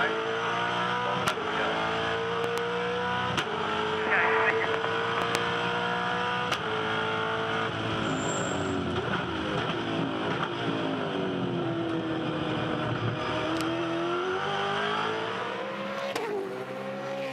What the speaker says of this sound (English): Live V8 supercar racing here to finish the season at Sydney Olympic Park